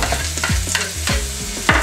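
Vegetables being stirred in a hot pan of beef curry, with a steady sizzle broken by several sharp scraping strokes of the spatula, loud and close.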